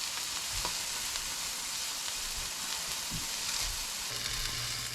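Meat sears in a hot pan on a farm-to-table catch-and-cook in Tennessee, giving a continuous soft crackling sizzle with scattered pops, steady and moderately close, with no talking.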